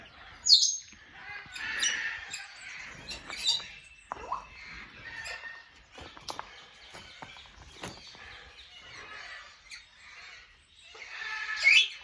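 African grey parrots in an outdoor aviary let out scattered squawks, chirps and rustles, faint and intermittent, with a sharper loud call near the start and again near the end.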